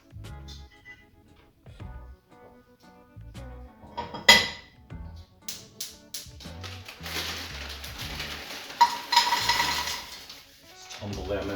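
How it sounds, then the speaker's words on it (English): Frozen berries tumbling into a pot: a scatter of hard clinks and rattles that builds into a busy clatter, fairly close and clear, with quieter kitchen knocks around it. "Tumble them into a pot."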